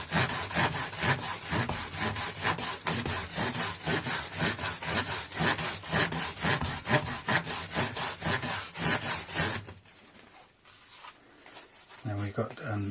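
Fine abrasive paper at around 4000 grit polishes a part on a Squier Affinity Telecaster, giving rapid rhythmic rubbing strokes up close that stop near the end, followed by a few softer scrapes.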